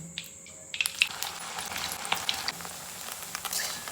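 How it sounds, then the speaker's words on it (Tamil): Mushrooms in batter deep-fry like pakoda for street-style kaalan, giving a soft, steady sizzle with scattered crackles and pops at low volume and no voices. "காளான் எல்லாத்தையுமே சுட்டு பக்கடா மாதிரி சுட்டு எடுத்தாச்சு"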